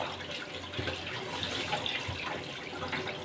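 Tap water runs and splashes steadily in a sink as chicken is washed, fairly soft and continuous, with occasional light knocks underneath.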